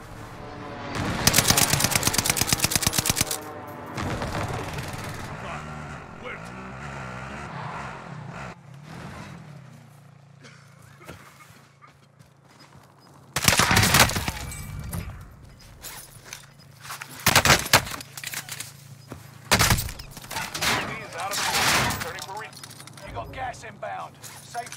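Gunfire in a first-person shooter game against an AI lobby, with bursts of close rapid shots and scattered single cracks over roughly twenty-five seconds, mixed with game noise and movement.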